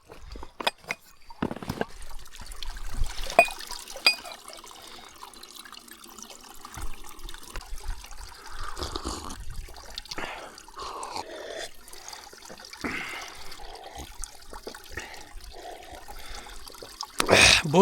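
Cold meltwater trickles out from between rocks on a snowy mountain trail, a soft steady flow with scattered splashes and some handling bumps close to the microphone.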